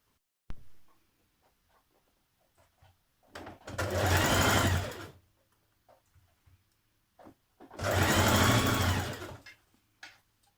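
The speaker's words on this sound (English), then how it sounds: "we're going to stitch that in place now" A sewing machine stitches a trouser waistband in two bursts of steady, close whirring, each about two seconds long, separated by quiet pauses with faint handling clicks.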